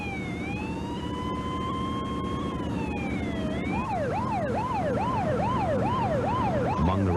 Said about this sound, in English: As the ambulance headed for the hospital